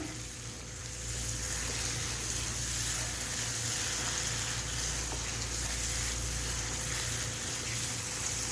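Steady close sizzling and frying of bhindi masala as a cream and yogurt mixture cooks in the pan, a continuous even hiss with no talking.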